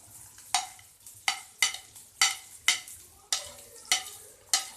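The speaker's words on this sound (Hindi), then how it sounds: "सबसे पहले प्याज डालना है, उसको हल्का सा सौते करने के बाद आपने फ़ौरन से टमाटर डाल देने हैं।" Onions sautéing on low heat in a pan, with a soft frying hiss under a regular series of sharp stirring scrapes, roughly one every half second, close by and with no talking.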